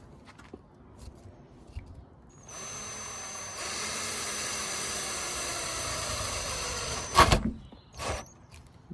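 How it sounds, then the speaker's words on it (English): A power drill bores a hole into the boot lid of a Nissan Micra K11, with a steady high whine held for several seconds, then a loud clunk and a few handling knocks. "we'll just get some holes drilled now"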